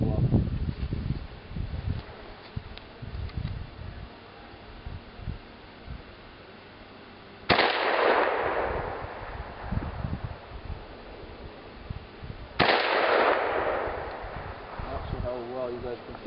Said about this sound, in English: let's take some shots at those and maybe a few more at that detergent jug there